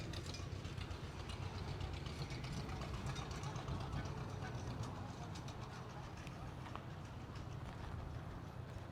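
A gas John Deere 2010 tractor idles at an old-time farm show, a steady low engine chug with rapid rhythmic ticking, continuous and fairly close amid the outdoor crowd murmur.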